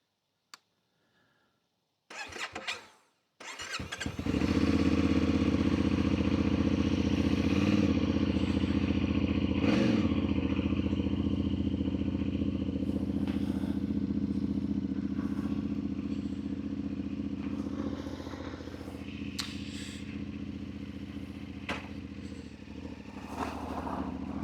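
A CFmoto 450 MT motorcycle on a cold February day starting on a lithium battery after a few clanks, then its engine catching and settling into a steady, close, rumbling idle.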